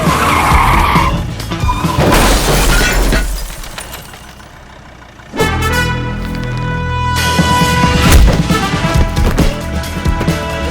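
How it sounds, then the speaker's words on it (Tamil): A car brakes hard and skids, with loud tire squeal and screeching that swell, dip briefly, then return for several seconds amid rough road noise, with no voices. "அட்ரா பிரேக்க."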